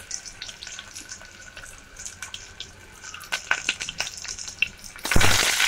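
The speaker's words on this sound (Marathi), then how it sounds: "त्याच्यामध्ये तेल टाकलं, फोडणीचा कांदा टाकते आणि कढीपत्ता." Crackling, spitting sizzle of onions and curry leaves frying in hot oil, with irregular pops and a louder burst of sizzling at the end.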